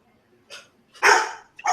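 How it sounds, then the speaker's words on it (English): A dog barks loudly and close by, a few sharp barks in quick succession breaking into an otherwise quiet room. "shut up, dog"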